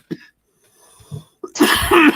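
Harsh coughing from a man who just hit a clogged dab pen with oil, a couple of short dry hacks and then a loud, raspy, sustained coughing fit close to the microphone.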